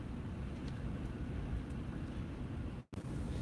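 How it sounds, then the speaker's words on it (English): Strong wind buffets a parked car beside tall buildings, a steady broadband rush that roars on for several seconds, cuts out briefly near the end, then returns. "Y'all hear the wind?"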